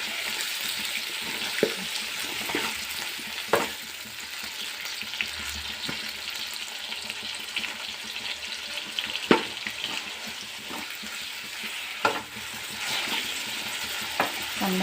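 Tomatoes for a tomato chutney fry in a pan with a steady, close sizzle, broken now and then by the faint scrape of a stirring spoon. Nobody speaks.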